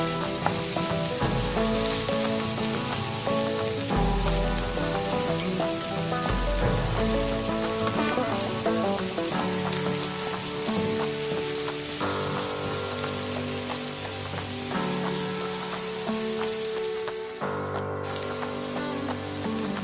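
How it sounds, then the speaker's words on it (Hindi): Chopped onions sizzle loudly in two tablespoons of hot oil in a pan while cooking a potato and fenugreek leaf stir fry, a dense, continuous crackling hiss close up with no talking. "पैन में मैंने 2 टेबलस्पून ऑयल डाला है और अब इसके साथ ही इसमें हम प्याज डाल देंगे"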